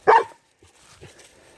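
A dog at an abandoned house lets out one loud sharp bark, followed by a few soft, faint sounds.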